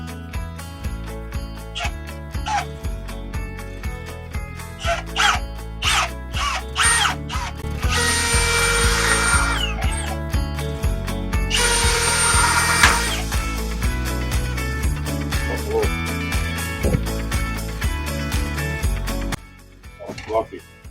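A power drill bores through a metal mast bracket in long grinding bursts with short pauses and ratcheting clicks, loud and close, ending abruptly.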